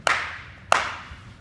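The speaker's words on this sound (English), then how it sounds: "Listen for the claps." Two loud, snappy hand claps a little over half a second apart mark timing for a batter in a baseball hitting camp drill, close and clean with short echoing tails and no talk.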